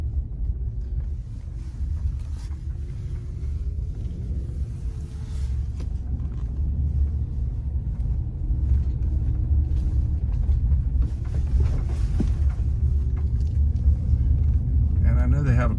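A car drives slowly through a residential complex with a community center and pool, its steady low engine and road rumble continuing close throughout, with someone talking over it.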